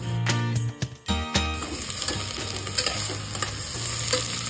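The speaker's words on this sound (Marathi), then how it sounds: "4 मीडियम साईजचे कांदे होते, ते मी असे बारीक कापून घेतलेले आहे, ते टाकून घ्यायचे आहेत आपल्याला।" Finely chopped medium onions hit hot oil in a pan, giving a loud, steady sizzle under repeated metallic scrapes and clatter from stirring, close and continuous.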